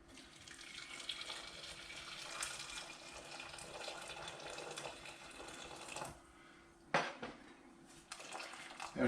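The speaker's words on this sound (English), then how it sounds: "we're going to cover them in boiling water." Boiling water poured from a kettle over potatoes in a saucepan gives a steady, faint splashing stream for several seconds, then a few clinks of metal pan and utensils.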